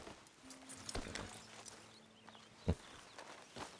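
Horse hooves walking in the video game Red Dead Redemption 2, a few soft, scattered hoofbeats with one sharper step, faint under a low hum of ambience.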